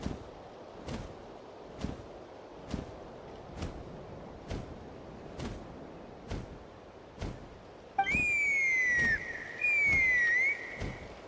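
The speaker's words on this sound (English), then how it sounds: "That sounded like a whistle." Whistle calls in the video game Genshin Impact, sounding as two clear, sliding high tones near the end, heard over a steady series of sharp rhythmic thumps.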